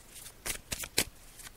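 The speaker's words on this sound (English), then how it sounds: "I'm just going to shuffle the cards." Tarot cards shuffled by hand during a psychic show, a few crisp riffling bursts and soft card slaps spaced across a quiet moment, close and clear with no speech.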